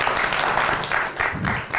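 Studio audience applause at a Russian talk show about television versus YouTube, a short, loud burst of many hands clapping close by.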